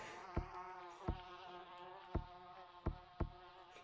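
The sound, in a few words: bees buzzing in a video game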